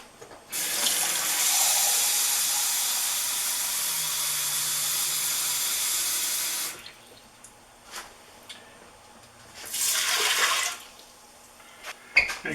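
Water pours from a tap into a multi cooker pot in a steady rush lasting several seconds, stops, then a second shorter pour follows, with a few drips and clinks in between.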